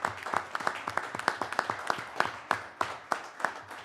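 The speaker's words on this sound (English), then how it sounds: "let's give them all a round of applause" A small crowd applauds public works staff at a city council work session, the clapping moderately close and brisk, with individual claps standing out clearly as it thins slightly toward the end.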